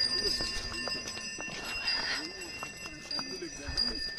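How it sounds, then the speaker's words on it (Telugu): A horse walks along a mountain trail during a ride to Muktinath, Nepal, hooves clopping in a loose, quiet rhythm beneath talk and ambient noise, with faint tonal sounds running throughout. "గుర్రం మీద ప్రయాణం జరుగుతుంది."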